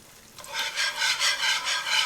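Rhythmic scraping strokes of a whisk working milk gradually into a sauce in a pan, about six steady even passes, close and fairly soft, with no talking.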